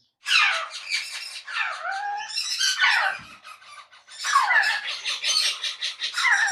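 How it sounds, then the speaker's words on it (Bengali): An African grey parrot gives repeated loud, harsh squawks and squeals close by, in several bursts with brief pauses between them, with no talk. "এটা হচ্ছে আফ্রিকান গ্রে প্যারট পরঙ্গ প্রজাতির একটা পাখি"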